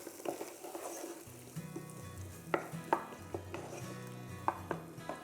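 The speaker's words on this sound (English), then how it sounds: "Pop that in the pan with the onions. Give it a good stir." Squash and onions are stirred in a pan, the soft sizzle punctuated by sharp clinks and scrapes of a utensil against the metal at irregular moments.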